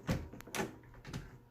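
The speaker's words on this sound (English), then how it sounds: "And now when you shut the door," A wooden household door being shut after its lock was repaired with new screws, giving a few short knocks and a latch click close by with no talk over them.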